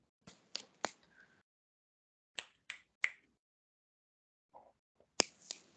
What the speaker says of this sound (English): Snap your fingers in a Z formation.